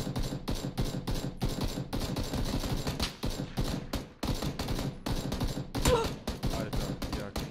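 Sustained gunfire in the battle royale game PUBG, rapid bursts of shots crackling almost continuously with brief pauses, loud and close, with a heavier blast near the middle.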